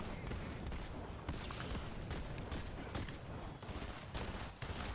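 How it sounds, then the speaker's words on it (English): Sustained bursts of video game gunfire from an enemy shooting from across the map, dense and rapid with sharp cracks, loud and continuous throughout. "somebody's shooting at us from across."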